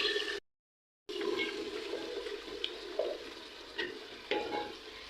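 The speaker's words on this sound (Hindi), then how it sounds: "मैं इसके अंदर गोभी डाल देती हूँ।" Cauliflower tipped into oil with frying masala for aloo gobhi sets off a steady close sizzle, with scraping and stirring clinks over the crackle after a short silent gap at the start.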